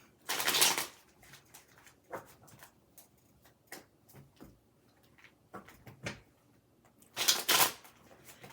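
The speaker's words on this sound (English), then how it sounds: "These want to shuffle. They want a big shuffle, so it's probably going to be noisy." Tarot cards being shuffled by hand, two loud bursts of riffling at the start and end with softer scattered card taps and slides in between, close and alone.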